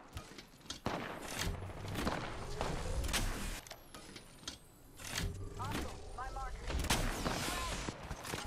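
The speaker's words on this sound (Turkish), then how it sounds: "Sniper sıkıyor karşıdan." Sniper fire from across the map in the video game Apex Legends cracks out in scattered distant shots amid a busy battle mix of footsteps, movement and other gunfire.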